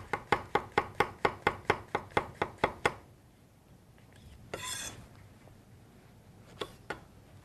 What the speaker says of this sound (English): Now you can simply slice the mushroom, again, making it stable.